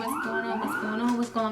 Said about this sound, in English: Damn cop sirens.